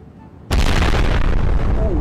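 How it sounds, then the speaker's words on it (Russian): A huge bomb explosion in Garry's Mod erupts abruptly as a loud, sustained roaring blast that stays at full volume and rumbles heavily, with no voices heard. "Мега взрыв, пацаны."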